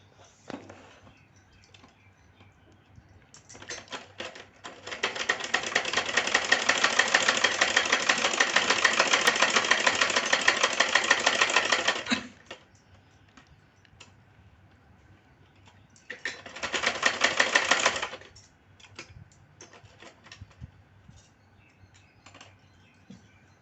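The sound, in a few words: sewing machine stitching a double katori blouse part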